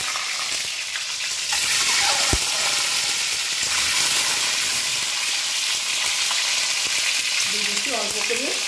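Duck eggs fry in hot mustard oil in a wok, a continuous bright sizzle and hiss that swells a little after the eggs go in, close and steady, with faint stirring and scraping near the end.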